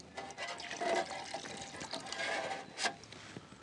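Resin print wash station agitating a 3D-printed part in alcohol, a busy churning slosh of liquid with bubbling and splashing, close and continuous with a brief louder surge near the end.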